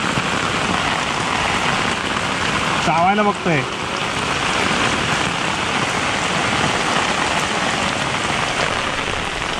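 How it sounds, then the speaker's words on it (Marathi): Heavy rain pours steadily on a Konkan village in Ambavali, Mandangad, a dense even roar throughout, with someone speaking briefly near the start. "आत्ता पाऊस जोरात आला आहे."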